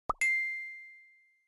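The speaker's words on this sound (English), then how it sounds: "A text notification!" Text notification chime in the video game Piper's Pet Cafe: a soft low plop followed by a single bright ding that rings on and fades over about a second, heard alone.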